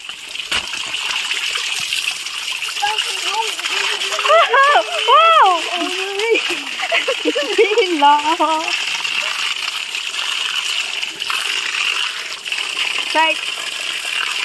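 Water splashes and rushes steadily while people bathe at a waterfall, with excited high voices and laughter rising over the spray.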